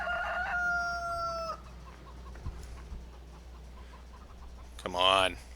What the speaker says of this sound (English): Okay, chickens. Where are your eggs?